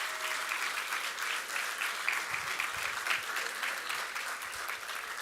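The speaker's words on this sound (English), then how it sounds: "go ahead. Clap again." A room full of people clapping at a white coat ceremony for physical therapy students, a continuous dense patter of applause at moderate volume with faint low murmurs underneath.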